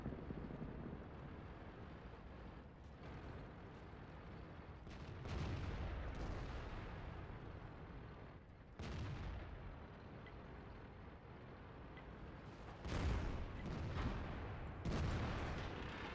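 Several heavy booming tank cannon blasts in World of Tanks, a couple in quick succession later on, over a constant low rumbling engine drone.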